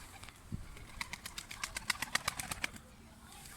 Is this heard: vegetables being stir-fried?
no